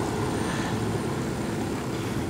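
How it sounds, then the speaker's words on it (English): Helicopter in the Ghost Recon Wildlands video game, a steady, loud, continuous engine and rotor drone with no breaks. "So you get a helicopter that has the 2 Gatling guns on it, or rockets"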